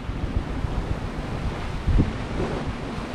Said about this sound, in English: It's good wind for sailing.